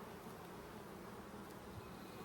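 Honey bees hum steadily during an open inspection of a colony with emerging brood and returning pollen foragers, a dense, even buzz close by with no voices.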